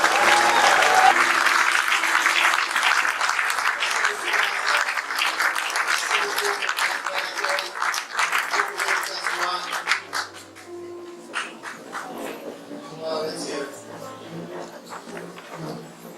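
A church congregation applauding during a French-language worship service, with dense, sustained clapping that stays loud for about ten seconds before thinning out and tapering toward the end.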